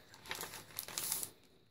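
A large white merchandise bag crinkles close up in a short, soft burst of rustling plastic, rising and fading within a couple of seconds.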